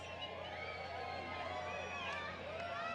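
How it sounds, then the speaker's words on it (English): Excited crowd gathered outdoors for solar eclipse totality in the United States, a dense continuous babble of many voices with scattered whoops and shouts rising, steady and fairly near throughout. "Crowd's getting excited."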